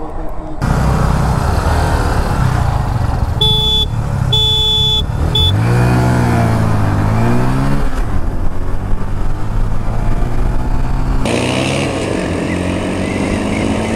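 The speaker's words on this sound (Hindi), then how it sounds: "लॉन्च में फिर से वो वाली बाइक आगे निकल गई है, और मैं फुल एक्सेलरेट किया हूँ इस बार।" A TVS Ntorq 125 scooter and a Hero Glamour 125 motorcycle racing at full throttle on a highway, a loud continuous engine roar with rising revving whine and heavy wind rush, close and sustained throughout.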